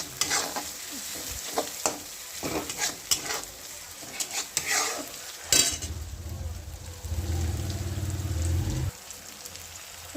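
A spoon works through thick pav bhaji mixture in a hot pan, giving repeated scraping, squelching strokes in an uneven rhythm, followed by a steady sizzle that swells and then cuts off.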